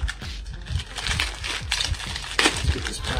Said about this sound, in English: Let's get this plastic bag open.